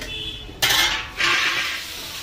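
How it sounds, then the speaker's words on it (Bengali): A lid is lifted off a cooking pot in which a simmering curry steams, releasing two bursts of hissing steam over a low background hum, close by and without speech. "আমি ঢাকনাটা খুলে দেবো"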